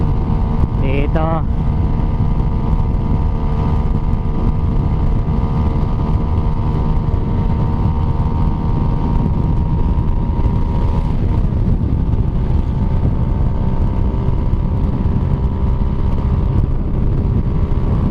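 Motorcycles racing side by side on a road, one keeping pace with another, with a steady loud engine drone and wind rush throughout and a brief rising whine early on.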